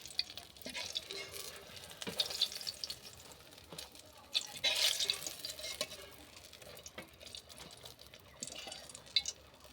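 Eggplant slices frying in oil make a faint sizzle with soft crackles, broken by intermittent stirring and scraping clatter across the clip.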